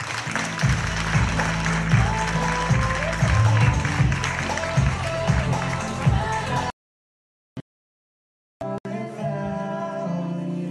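Audience applause fills a Christmas gala hall, dense and sustained for several seconds before cutting off abruptly, followed by a brief return of softer sound.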